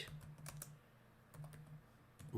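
Bursts of computer keyboard typing while Python code is entered, quick clustered keystrokes with short pauses, fairly quiet and close, no voices.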